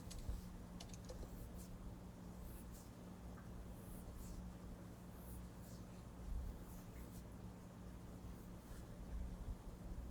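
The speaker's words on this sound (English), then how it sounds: "And then you have to type it right." Quiet, rapid keystrokes clatter on a computer keyboard in short runs under a constant low room hum, with no speech.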